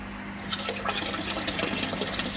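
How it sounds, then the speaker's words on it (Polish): Tap water pours into an angelfish breeding tank, a steady splashing rush that begins about half a second in and carries on close and even, with no talking. "i woda nam, jak widzicie, już leci"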